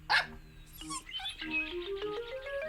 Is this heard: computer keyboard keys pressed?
no